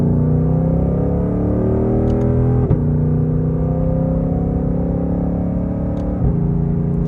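A Shelby GT500 with an automatic transmission on a drive, its engine a steady loud rumble with rising and falling pitch as it pulls through gears, with a couple of brief shift dips and no talking.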